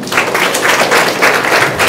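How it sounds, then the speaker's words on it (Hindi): A hall full of girls claps loudly and close, the applause pulsing in slightly uneven bursts for about two seconds with no talking over it. "आपको ताली बजाना चाहिए अपने लिए।"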